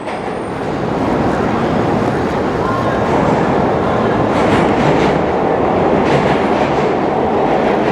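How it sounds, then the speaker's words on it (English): A loud, continuous rumbling roar of a subway train running past underground in New York City, heard from street level, steady throughout with a faint rhythmic clatter underneath. "the subway train on the ground. You can hear it from above the ground."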